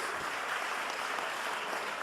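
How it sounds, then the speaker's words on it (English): Audience applause for a school team at a Hebrew Academy event, a faint, even wash of many hands clapping heard from a distance, brief and steady. "everyone give them a round of applause"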